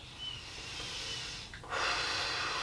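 Deep breathing during a hip recovery stretch: a steady, soft airy exhale that builds into a louder, fuller breath near the end, close and alone with no talking.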